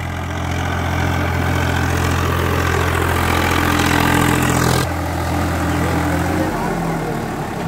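A diesel tractor engine idles steadily nearby at a village diesel-average contest in Haryana, with a low chugging drone; the pitch drops partway through as it settles, with people talking over it.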